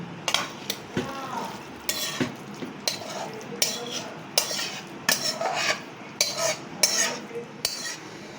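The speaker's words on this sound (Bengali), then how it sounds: "মুড়ি ঘন্টটা এবার আমি ঢেলে নিচ্ছি।" Fish-head muri ghonto made with katla fish head is served into a dish, with a run of sharp metal spoon and utensil scrapes and clinks against the pot, close and irregular.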